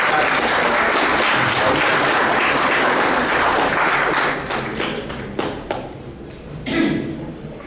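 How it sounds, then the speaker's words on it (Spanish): An audience at a graphic narrators' gathering gives Carlos a full round of loud applause, which thins out into scattered individual claps toward the end. "ahí un aplauso para Carlos"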